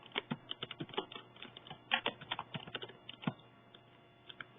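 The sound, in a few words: typing text on a computer keyboard in Excel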